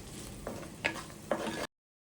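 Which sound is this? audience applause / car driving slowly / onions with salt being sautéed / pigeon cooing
onions with salt being sautéed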